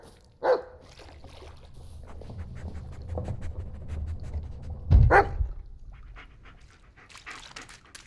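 In the horror video game Blair Witch, a dog pants rapidly and gives a couple of sharp barks, near and fairly loud, with soft whimpers between bursts and no talk.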